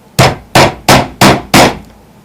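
A hammer drives nails into a wooden board, five loud, sharp strikes at an even pace, each ringing out briefly before the next, then quiet.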